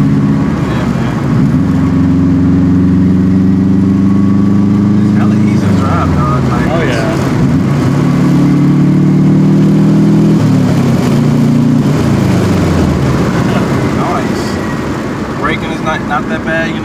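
A Subaru WRX bugeye wagon with a full but still catted exhaust revs loudly up close, its engine note rising and falling through several sustained pulls, with people talking over it.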